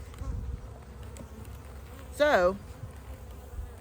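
Honey bees hum around a hive frame, a low continuous drone with a louder buzzing flyby passing close for a moment; someone speaks a word in the background.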